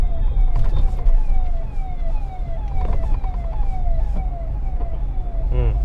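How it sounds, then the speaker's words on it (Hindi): A wailing ambulance siren sweeps up and down repeatedly over heavy traffic rumble, loud and close as it passes by. "एम्बुलेंस आ गई"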